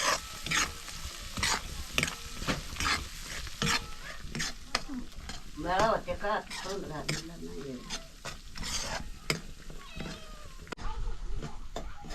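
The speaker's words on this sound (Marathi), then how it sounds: "मसाला व्यवस्थित परतलेला आहे" Spice masala with ground toasted millet is sautéed in a pan over a wood-fired stove: repeated scraping stirs and a soft sizzle, while a cat meows several times in the middle.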